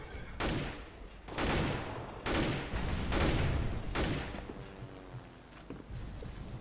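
Gunfire in Counter-Strike: Global Offensive, several loud sharp volleys and bursts in quick succession with a rattling tail, close and prominent, no talk.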